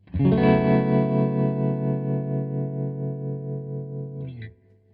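A single guitar chord rings out through a Victory V40 Deluxe amp with tremolo and reverb engaged, sustaining loud and steady for about four seconds before cutting off, leaving a brief reverb tail.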